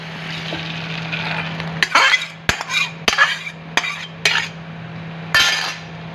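A pot of dal is lifted off a kitchen stove: a series of sharp metallic clinks and scrapes of cookware, close and moderately loud, over a steady low hum.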